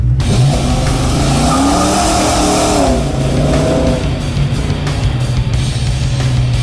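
A drag race car's engine revs hard and then fails partway through a run, the loud roar and rising revving giving way to a rougher, broken running sound, with some tyre noise and no talk.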